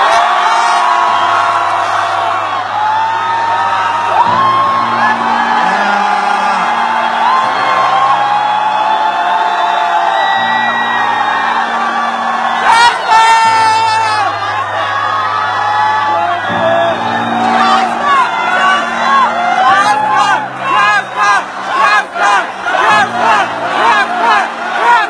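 A large concert crowd at a show in Beijing cheers and whoops in a long, loud, sustained roar. Low sustained music plays underneath, and the cheering swells and pulses near the end.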